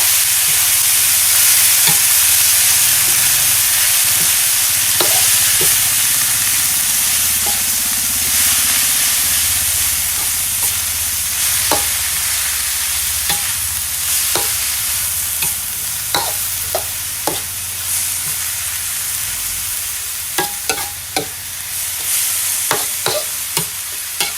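Cabbage and pork belly stir-fried in a pan: a continuous loud sizzle and hiss, with scraping and clinking of the spatula against the pan coming in bursts, especially toward the end.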